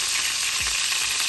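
Whole spices, a bay leaf, cardamom, cinnamon and cloves, sizzle steadily in hot oil for a prawn malai curry, a loud, continuous close frying hiss with no talk.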